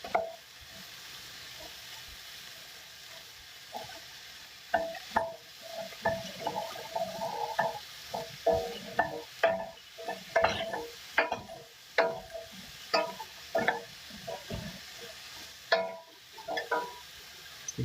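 Onions fry in a pan while being stirred, a soft sizzle broken by irregular scraping and clattering strokes of the utensil, close and fairly quiet, with no talking.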